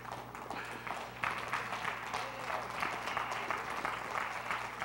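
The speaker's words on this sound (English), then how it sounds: "Give God a hand clap of praise." A church congregation gives sustained hand clapping of praise, a dense, fairly even applause from a crowd that swells slightly after the first second and continues throughout.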